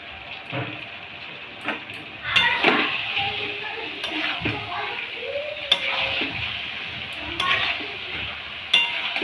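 Rice with spices is stirred in a pan for egg biryani, making a soft sizzle with intermittent scraping and clinking from the spoon, close and moderate, with no voices.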